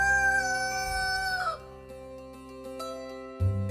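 A rooster crows in a long rising and falling call, followed by a short burst of lower clucking from chickens near the end, loud and close with no voices.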